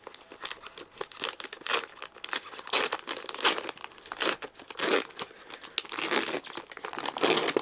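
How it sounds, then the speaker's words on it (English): Plastic packaging on a first aid kit is peeled open, giving continuous close crinkling and tearing rustles with irregular bursts, no talking over it. "You just, as it says here, peel here, and then you just lay it on flat on the floor."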